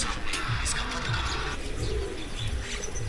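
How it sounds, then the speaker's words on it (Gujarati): Low, throaty cooing from many pigeons by Rajsagar lake near the Kankroli Dwarkadhish temple repeats in soft throbs against a steady outdoor hiss. "રાયસાગર જેલની બાજુમાં જો કબૂતરા કે એટલા બધા છે"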